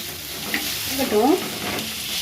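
Onions sauté in a pan with a soft, continuous sizzle and an occasional gentle stir, fairly quiet and steady with no voices.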